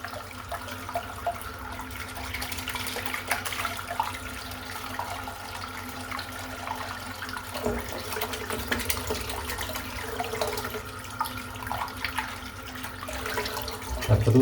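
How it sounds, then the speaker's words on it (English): Tap water runs steadily into a sink while soap is rinsed from a shaving brush, a faint continuous splashing hiss with occasional small knocks and handling sounds nearby. "You can fill the sink up now. I'm going to rinse the soap out while I do so."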